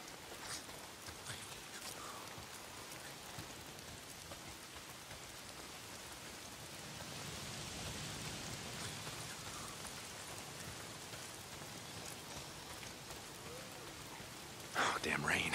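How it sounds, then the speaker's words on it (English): Steady broadband rain hiss from the post-apocalyptic open-world video game Days Gone, an even, continuous downpour that fills the scene and swells slightly midway, with a brief louder burst right at the end. "Why is it always raining?"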